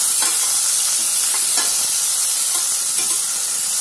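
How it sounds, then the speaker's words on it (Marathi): Two large finely chopped onions frying toward brown for chicken masala curry, a loud steady hiss of oil with soft stirring scrapes throughout, no speech. "छान ब्राउन करून घ्यायचाय कांदा."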